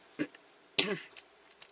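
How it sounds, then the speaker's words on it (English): A person clears their throat twice, short rough bursts close to the mic, followed by a faint quieter sound. "I don't mean to be clearing my throat, but it happens."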